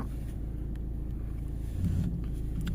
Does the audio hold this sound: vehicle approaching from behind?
yes